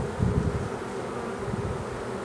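A drone honeybee buzzes close by near a hive, a steady continuous hum that swells and fades slightly as it hovers nearby, with no talking.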